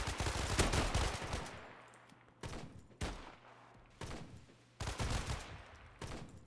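Gunfire in the pre-alpha shooter ShatterRush, with rapid bursts of close shots separated by short gaps and decaying echoes, each volley loud and sharp.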